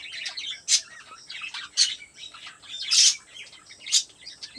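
Several birds chirp and call at dawn, with repeated bright bursts of song roughly once a second over a steady background of softer twittering; no voices.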